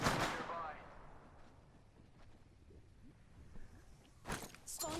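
Gunfire in a battle royale video game, a loud burst at the start fading into scattered faint shots and movement, then a couple of sharp cracks near the end, with quiet background noise between.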